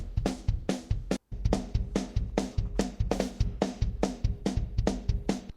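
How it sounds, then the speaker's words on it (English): A live concert drum kick and snare, separated out with no samples added, thump and crack in a steady driving beat, loud and close, with one brief dropout partway through. "Without any samples, the kick and the snare sound like this."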